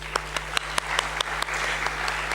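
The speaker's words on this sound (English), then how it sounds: "A huge round of applause for Sir, please." Sparse, scattered claps from a small seminar audience ring out over a steady electrical hum, thinning out into a continuous background wash.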